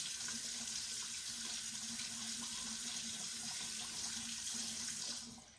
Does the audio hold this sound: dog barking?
no